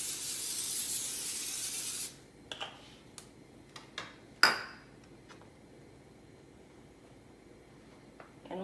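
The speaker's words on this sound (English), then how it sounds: "we are going to spray the skillet with some olive oil spray" Olive oil spray hisses onto a preheated flat skillet in a long steady burst, followed by a few light clicks and taps of kitchen handling.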